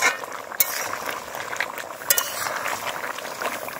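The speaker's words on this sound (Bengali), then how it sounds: "আমার ঝোলটা ফুটে উঠেছে" Country chicken curry gravy bubbles in a pot with a steady hissing simmer, broken by a couple of brief utensil clinks.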